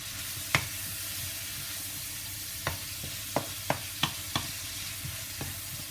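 Cherry tomatoes land in a pan of frying spicy shrimp, which sizzles steadily. Scattered sharp clicks of a utensil against the pan cut through the sizzle, and no one talks.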